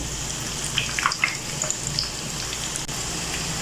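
Potato donuts fry in hot oil, a steady soft sizzle with scattered small pops and crackles, close and fairly quiet with no talking.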